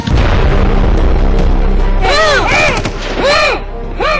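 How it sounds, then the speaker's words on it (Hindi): Loud bursts of gunfire and bomb explosions crack close by, several sharp reports in quick succession over a constant low rumble. "चारों तरफ चल रही गोलियां, बमों के धमाके से पूरा इलाका थर्रा रहा है"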